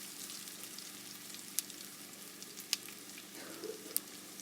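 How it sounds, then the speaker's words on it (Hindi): Potato masala fries lightly in a pan with a faint, even sizzle and a few sharp ticks and pops, no voices. "आलू मसाला को थोड़ा सा फ्राई करेंगे, लाइटली और कलर लाएंगे।"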